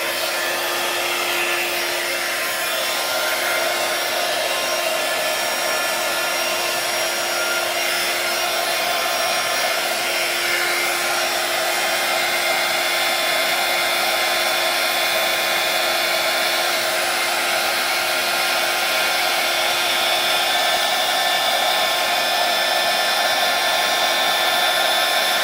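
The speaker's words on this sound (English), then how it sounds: "I'm gonna heat up my heat tool here, my embossing heat tool" An embossing heat tool blows hot air in a steady, loud, unbroken whoosh with a faint high whine, close up and alone for the whole stretch.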